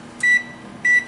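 Two short, bright electronic beeps from an oven timer being set, spaced about half a second apart against a quiet kitchen hum, close and clear with nobody talking.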